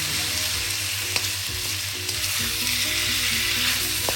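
Cubed pork belly frying in a pan for pork adobo, a steady loud sizzle with occasional crackles and faint stirring knocks.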